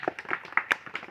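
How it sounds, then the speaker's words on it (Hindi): An audience claps at a religious gathering, a brief patter of scattered, uneven hand claps at moderate distance with no voices. "ताली बजा"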